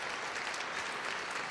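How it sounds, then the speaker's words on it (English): Steady applause from a small group in a room, a continuous dense patter of clapping hands lasting the whole moment with no pauses. "Round of applause for you."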